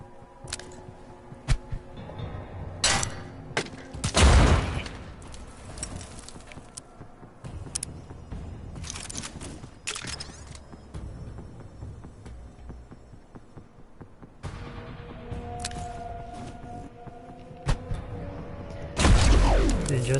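Frag grenade and EMP blasts from the turn-based game Mutant Year Zero: Road to Eden, several heavy booms with broadband bursts, one loud detonation early and another near the end, set over a steady game ambience.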